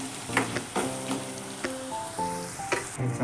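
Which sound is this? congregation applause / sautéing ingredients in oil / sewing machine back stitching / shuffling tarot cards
sautéing ingredients in oil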